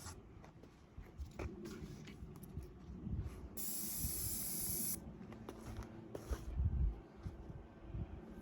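An EM8000cv airless paint sprayer fitted with a 308 tip sprays at around 700 pressure, giving a steady close hiss that swells into a loud bright burst for a second or so amid mechanical clatter and handling noise.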